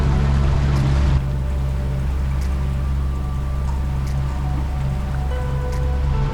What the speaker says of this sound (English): a good sign that we are among the islands of Cyklades is these huge ferries going between the islands